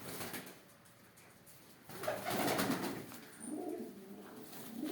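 Pigeons coo in a loft among varnish and smoke-coloured breeds, soft throaty calls rising in bursts with low murmuring and a faint wing flutter, moderately close.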